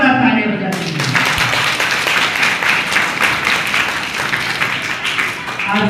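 A village crowd at a ceremony honouring NEET-selected students in Ratangarh breaks into loud, dense clapping that starts abruptly and rolls on steadily, close and energetic, with voices mixed in.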